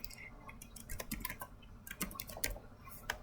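Typing on a computer keyboard to enter search text, quick irregular key clicks in short bursts, faint and close, with no voices.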